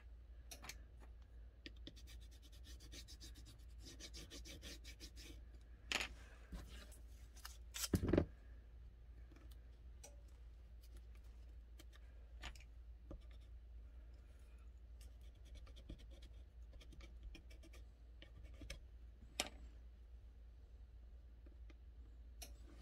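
A Sig P365 gas pedal trigger part is shaved down: faint, sparse scratching and scraping strokes, with a couple of sharper louder clacks midway, set against a quiet room.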